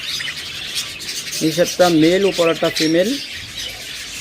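A caged breeding pair of pet birds squawks and chirps in a noisy shop setting, while someone talks over the calls.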